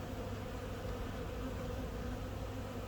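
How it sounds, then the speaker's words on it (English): Honeybees buzz in a steady, dense drone throughout while a colony is moved into a new hive, with no voices over it. "There's a bee on my finger."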